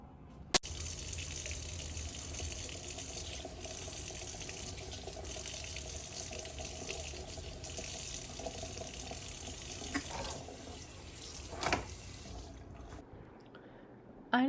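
Tap water runs steadily into a kitchen sink being filled for a newborn's bath, a continuous close gushing hiss with a few small clunks near the end.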